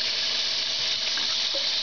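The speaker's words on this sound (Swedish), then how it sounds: "Sen öppnar vi kranen här." Water gushes steadily from a tap, a loud, even hiss of running water filling a sink with no talking.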